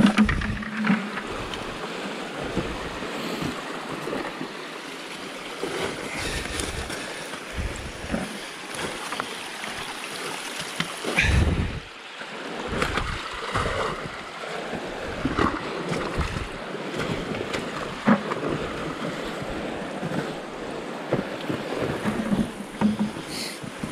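Creek water flows along a snowy hike in Greenwater, Washington, a continuous broadband rush close to the microphone, with wind buffeting and scattered crunches over it.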